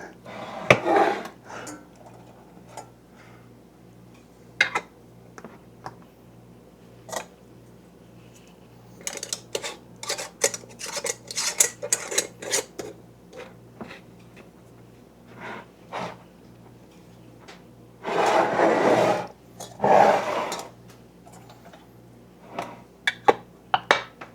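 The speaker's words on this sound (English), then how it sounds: "put the lids on. And just finger tight. Make sure you don't cross thread it either." Glass canning jars of wild Alaskan salmon get their metal lids and rings screwed on by hand, with scattered clinks, scrapes and rattles, then louder clustered rasping twists, heard alone with pauses between.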